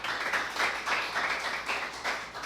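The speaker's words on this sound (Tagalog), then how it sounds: "Ato daw sugatog palakpak ang Dios." A congregation clapping during a sermon, a continuous wash of many hands applauding together at even loudness with no voices over it.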